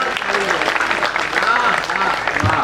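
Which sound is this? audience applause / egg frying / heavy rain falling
audience applause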